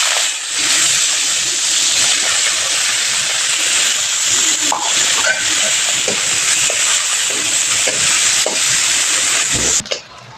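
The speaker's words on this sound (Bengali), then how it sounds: "এই যে দেখো পেঁয়াজগুলো লাল লাল করে ভেজে নিয়েছি" Onions frying in a pan for a Bengali maya fish chorchori, a steady loud sizzle and hiss with occasional scraping stirs throughout, cutting off sharply near the end.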